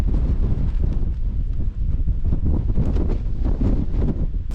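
Strong wind gusts of about 35 mph buffet a tent during wild camping, a constant heavy rumbling roar close to the microphone with no letup.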